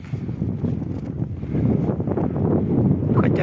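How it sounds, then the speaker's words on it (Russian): Wind blows steadily across an ice-covered river channel during ice fishing, buffeting the microphone with a continuous low roar that grows slightly stronger toward the end. "Ветер не стихает."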